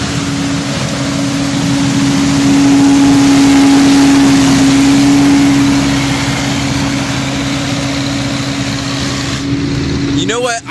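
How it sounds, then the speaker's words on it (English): A walnut sweeper, or windrower, runs in an orchard, sweeping nuts into the row center and blowing them from under tree limbs: a loud, steady engine drone with a sustained mechanical whine, heard close throughout under occasional talk. "This is a neat machine here. It's called a sweeper or a windrower."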